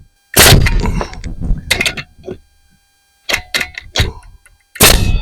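A pneumatic nail gun driving long nails into a wall sill plate on a house addition, several sharp loud bangs in close succession separated by brief silences.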